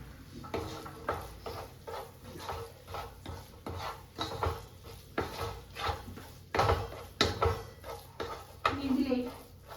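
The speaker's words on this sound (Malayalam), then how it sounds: "നന്നായിട്ട് ഇളക്കാം" A ladle stirs biryani masala in a cooking pot with a string of irregular scrapes and knocks against the metal. It is close but fairly soft, with a faint sizzle underneath.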